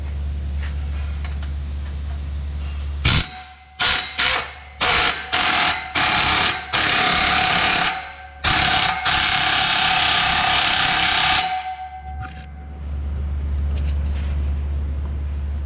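A socket wrench working on the mid-muffler bolts of a Ram Classic truck, heard as a rapid series of loud ratcheting bursts with short gaps over a steady low engine or shop rumble.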